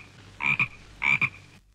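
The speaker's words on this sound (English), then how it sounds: "A big red frog!" Frog croaking twice in two short, even, loud bursts with a gap between them, each one rasping and double-pulsed, close and clear over a quiet hum.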